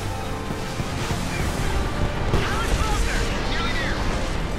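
In the war video game Homefront, a tank fires and explodes near a bridge, giving a dense, rumbling blast with a sustained roar of battle noise. A voice talks over it.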